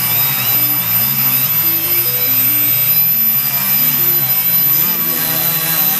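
An indoor quadcopter drone with lidar navigation hovers in place, its rotors producing a loud, steady high-pitched whine with a shifting tonal hum that fills the whole stretch without pause.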